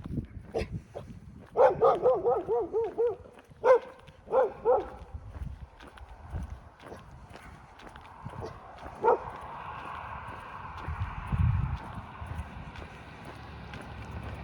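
A dog on a hiking trail barks in a quick series of loud, close barks, then a few more barks follow before the sound gives way to rustling and footsteps outdoors.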